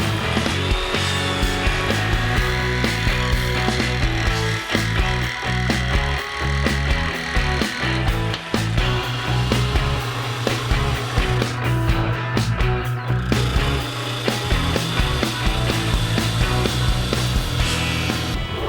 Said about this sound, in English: I'm going to go ahead and cut that taper now using my jigsaw.